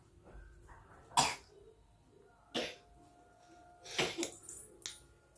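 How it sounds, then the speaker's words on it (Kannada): Three or four short, sharp coughs from a person with a cold, spaced a second or more apart, close by in a quiet room. "ನೆಗಡಿ ಕೆಮ್ಮು ಏನಾದ್ರು ತಿನ್ನಾಗ ಕುಡಿಯಾಗ ಕೆಮ್ಮು ಬಂದ್ಬಿಡ್ತಾವಳಗ"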